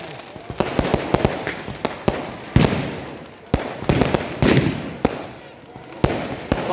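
A continuous New Year's fireworks display goes off nearby with a rapid run of sharp, loud bangs and crackling bursts. Voices chatter underneath.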